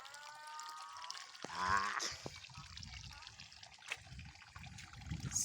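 Hot spring water runs downhill at a boiling-water site in Karachuonyo, Homa Bay County, trickling and gurgling softly nearby, with a brief burst of splashing and a few faint voices in the background.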